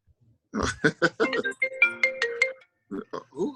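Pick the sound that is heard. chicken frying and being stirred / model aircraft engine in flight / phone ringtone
phone ringtone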